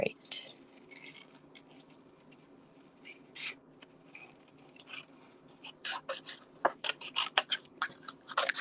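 Scissors cut out a small card piece by hand, giving quiet, irregular snips and rustles, denser in the second half, close up in a calm room.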